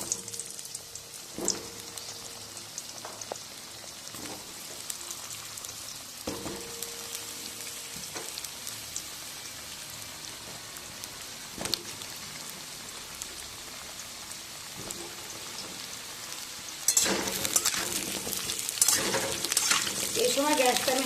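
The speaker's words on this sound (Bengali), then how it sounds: "তেলে সবজিগুলোকে ভেজে নেব।" Vegetables frying in hot oil for a Bengali shukto, a steady crackling sizzle throughout with occasional clinks of stirring, growing louder and denser near the end.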